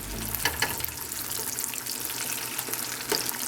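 Chicken wings dropped into hot oil, a dense crackling fry that starts right away and stays loud and close, with a few splashy bursts as more wings go in.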